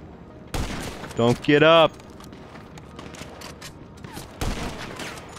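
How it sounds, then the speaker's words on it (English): Bursts of gunfire in Grand Theft Auto V gameplay, loud sharp volleys at the start and again near the end, mixed with in-game voices shouting and other game sounds. "How are they shooting me from this far?"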